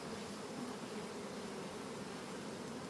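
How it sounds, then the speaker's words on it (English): Honey bees buzz in a steady, dense drone while being knocked into a new hive box with a beetle trap, continuous and close throughout with no talking. "I'm going to try to knock those bees in there."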